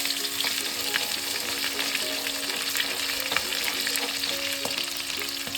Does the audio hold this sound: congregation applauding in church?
no